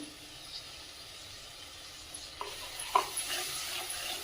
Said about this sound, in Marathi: आता मसाले छान परतून घेऊया